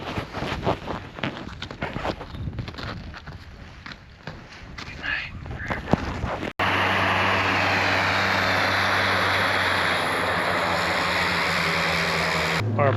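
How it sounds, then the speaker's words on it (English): A small plane approaches the Denali base camp, its engine drone swelling into a loud, steady roar that fills the second half, after earlier crunching footsteps and outdoor noise. "Our plane is on the way."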